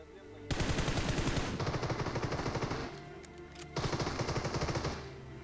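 Heavy sniper rifle gunfire from an AWM in a mobile battle royale shooter, loud sharp reports with rolling echo, a burst early then a second loud stretch near the end, no talking.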